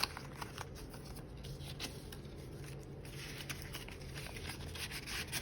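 Paper cash bills are riffled and shuffled by hand while an envelope is stuffed, a close, busy rustling and flicking that continues throughout with no talking.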